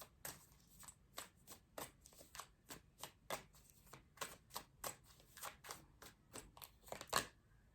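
A deck of tarot cards is shuffled close up in a run of about twenty sharp, riffling bursts at a steady rhythm, quiet and alone with no speech.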